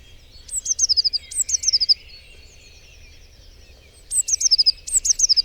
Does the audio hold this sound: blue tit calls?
yes